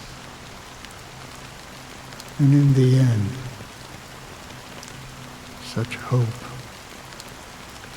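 Steady fine drizzle of rain falls throughout a scene in the video game Honkai Star Rail, a soft continuous hiss under a voice that speaks twice.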